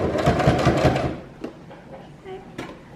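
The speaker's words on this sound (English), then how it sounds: "Just do a little back stitch." A domestic sewing machine runs a quick burst of stitches while a drawstring bag is sewn, short rapid needle clatter for about a second, followed by quieter handling clicks and soft knocks.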